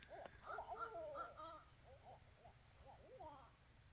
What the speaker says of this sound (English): You hear them owls going crazy?